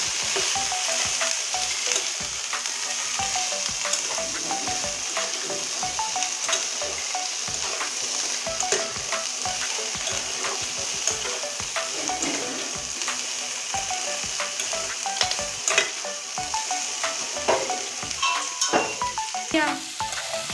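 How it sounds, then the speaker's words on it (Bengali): Spiced boiled corn being stirred in a frying pan, a steady close sizzle broken by repeated scraping and clacking strokes of a spatula against the pan, continuous throughout. "দেখুন সুন্দরভাবে নেড়ে নিচ্ছি মোটাটা"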